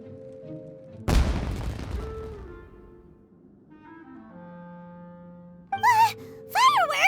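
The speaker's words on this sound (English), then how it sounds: "Was that an explosion? It sounded like fireworks." Fireworks bursting in Genshin Impact: a sharp loud boom followed by a crackling decay and lingering tones, then later bright whistling, rising bursts.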